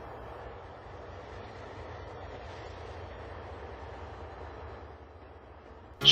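A train rumbling steadily as it pulls away along the line, a low continuous drone at moderate distance with no talk, ending in a sudden sharp noise.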